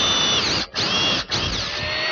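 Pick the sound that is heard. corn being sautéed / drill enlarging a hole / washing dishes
drill enlarging a hole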